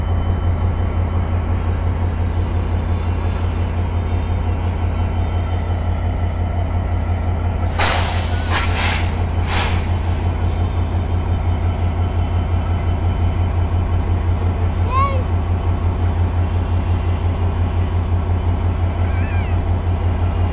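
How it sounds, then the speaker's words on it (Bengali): A large, crowded passenger train sits idling before departure, a deep steady engine rumble filling the scene, with two sharp hissing bursts of air brake release midway and faint distant calls later. "বিশাল বড় ট্রেনটি এখনই ছেড়ে যাবে।"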